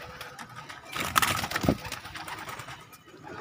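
Pigeons cooing nearby, soft throaty coos with a brief cluster of calls in the middle amid light background noise.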